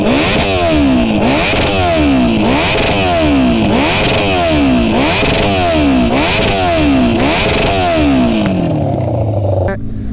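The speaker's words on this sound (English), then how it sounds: "this Toast exhaust is pretty loud" A 2015 Honda CBR1000 motorcycle fitted with a loud Toast exhaust revs repeatedly, about seven rising throttle blips in a steady rhythm, then winds down to idle; very loud and close with no talk.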